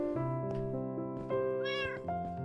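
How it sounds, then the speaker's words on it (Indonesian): A cat meows on a Minecraft server, several clear, close meows in quick succession, tonal and drawn out, over a sustained musical background with no talking. "Ada suara kucing, coy."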